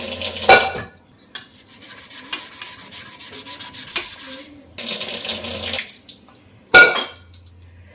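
Food items are washed by hand under a running kitchen tap, with bursts of splashing water, rubbing and occasional clinks of utensils between quieter gaps, close by and without talk.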